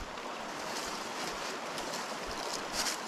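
Steady broadband rush of the Río Los Horcones flowing outdoors, a continuous even wash of water heard from close by with no talk over it.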